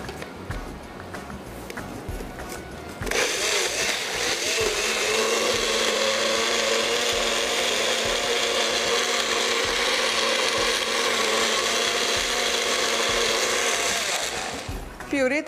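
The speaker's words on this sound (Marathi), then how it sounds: "आता हे मिक्सरमध्ये फक्त प्युरी करून घ्यायची." An electric mixer purees steamed mango and raw mango pieces, starting after a short quiet pause and then running loud and steady with a whirring motor roar until near the end.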